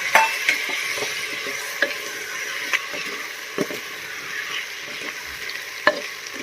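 Masala frying in a pan for Kashmiri Nadir Churme made with lotus stem, a constant close sizzle broken by regular sharp clinks and scrapes from a stirring spoon.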